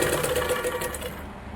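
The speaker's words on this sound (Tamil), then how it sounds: "இப்போது அந்த தையல் மேலேயே போடணும்" A sewing machine stitches a cross piece onto a blouse neck, running in a fast, steady whirring rhythm that stays loud and close before tapering slightly at the end.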